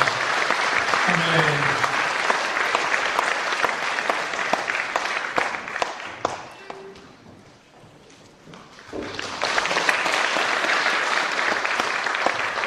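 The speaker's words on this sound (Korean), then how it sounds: "뜨거운 격려의 박수 박수하십시오" Congregation in a Korean church applauding a retiring elder during an anniversary ordination service, sustained crowd clapping that fades into a brief lull midway, then swells back strongly, with a voice speaking briefly over it.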